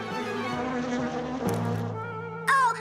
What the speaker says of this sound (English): Oh, a bee!